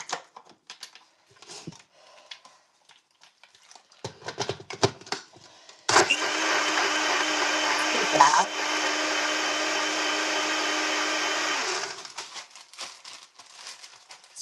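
A blender whirs loudly for about six seconds, blending a collagen supplement drink, a steady high whine, between bursts of clinking and handling noises before and after.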